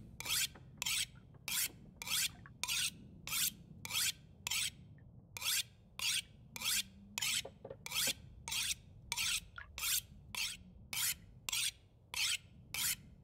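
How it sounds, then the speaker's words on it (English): Knife being sharpened in the survival video game The Long Dark, a long series of evenly spaced rasping whetstone strokes over a low ambient hum. "Let's sharpen my knife a bunch."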